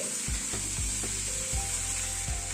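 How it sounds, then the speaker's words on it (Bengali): Two medium onions, finely chopped, stirred in a frying pan with rhythmic spatula strokes every moment or so over a constant close sizzle. "পেঁয়াজটা দিয়ে একটু নাড়াচাড়া করে নিচ্ছি"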